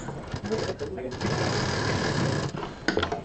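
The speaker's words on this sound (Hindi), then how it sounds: "अब इसको भी हम सिल देते हैं।" An electric sewing machine stitching a fabric lining piece for a handmade home decor item: a steady whirring run of stitching with short pauses and restarts, while someone talks over it.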